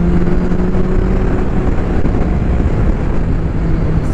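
A Honda CBR1100XX Super Blackbird motorcycle is ridden at speed, its engine giving a loud, continuous droning hum mixed with heavy wind rush at the microphone.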